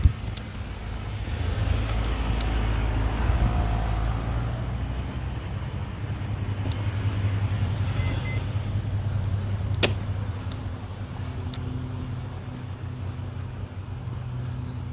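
Road traffic on a hillside street, with cars rumbling past in a steady, continuous wash of low engine and tyre noise that stays fairly loud throughout, with no voices over it.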